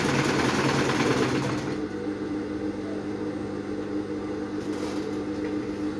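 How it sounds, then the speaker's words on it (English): A sewing machine runs steadily, stitching sheer fabric for a built-in transparent corset. The motor hum is louder and denser for the first two seconds, then settles into a softer, continuous whir with no talking. "so I'll put it like this and I'll start sewing"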